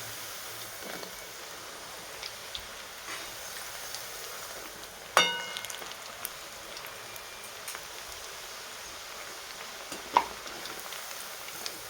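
Baati dough pieces deep-frying in hot oil, a soft steady bubbling sizzle with two sharper clinks of a utensil against the pan, no talk.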